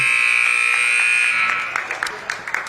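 A loud, sustained electronic buzzer sounds at the halftime of a girls' high school basketball game, held for about a second and a half before cutting off into gym noise and crowd murmur.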